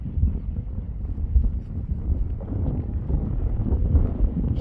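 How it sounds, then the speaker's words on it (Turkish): Wind blowing across a high mountain pasture where sheep graze, a steady, fairly loud rushing roar buffeting the microphone for the whole stretch with no voices. "rüzgar o taraftan vuruyor çünkü."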